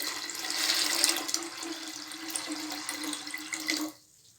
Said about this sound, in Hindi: अब हम इसमें 2 गिलास पानी डालेंगे